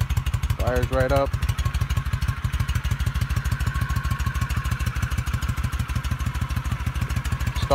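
A cold 25-year-old Honda Shadow A.C.E. 1100 motorcycle on its stock exhaust idles loudly and steadily at close range. Its rapid, even pulsing runs throughout, with a brief spoken phrase early on.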